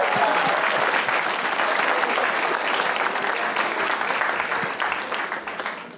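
An audience at a comedy club show bursts into sustained, loud applause, dense overlapping claps holding strong for several seconds before beginning to taper off near the end.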